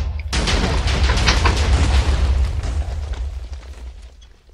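Explosions in the Minecraft video game roll out as a loud, sustained rumbling burst with crackling debris that slowly fades, with no talk over it.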